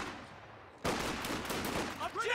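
Rifle fire crackles in a strategy video game battle, with rifle squads engaging in the centre of the map; a quiet lead-in gives way to sustained, busy gunfire and a few whistling effects toward the end.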